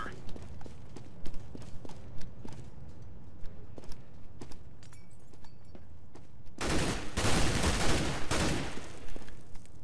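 Scattered single gunshots crack in Counter-Strike: Global Offensive, then a loud rifle bursts into rapid sustained spray fire for about two seconds before dropping back to occasional distant shots.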